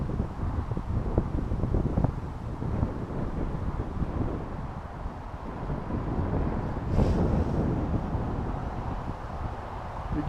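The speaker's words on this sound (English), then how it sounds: "There's tons of wind up there." Strong wind rushing across a microphone on a very windy day while an XK X251 drone flies, a steady loud buffeting roar that holds throughout without talk.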